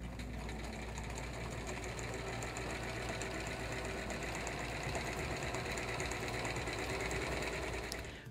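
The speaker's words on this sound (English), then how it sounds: "We're now coming to the end of the sewing, and when I get to the pin, I'll stop." A sewing machine stitching bias binding runs in one continuous, even, rapid mechanical chatter for several seconds, close but fairly quiet, with no talk.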